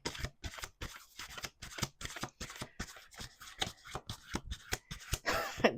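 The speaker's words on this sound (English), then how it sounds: "Let's do one more shuffle." Cards being shuffled in a quick riffle, a run of crisp rapid flutters and taps repeating steadily for several seconds, close by with no voices.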